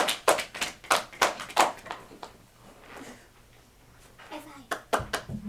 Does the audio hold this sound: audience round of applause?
yes